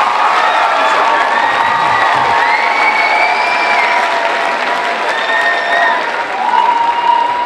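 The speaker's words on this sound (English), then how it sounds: "How about one more big round of applause for our Academic All-Stars this evening?" Loud, sustained applause and cheering fill an evening school academic awards ceremony, a dense wash of clapping with occasional whoops and children's shouts throughout.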